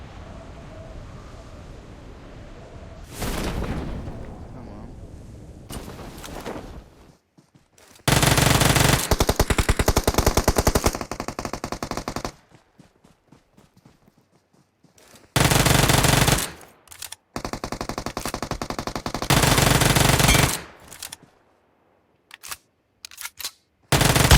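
Uzi submachine gun in PUBG Mobile fires loud, rapid bursts lasting several seconds each, separated by quiet gaps with faint ambient wind.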